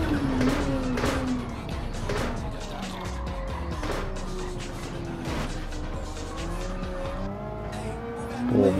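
A race car at full throttle in Gran Turismo 7 on the Nürburgring GP circuit, engine revving up and down through gear changes with tyre squeal, loud and continuous over the whole stretch.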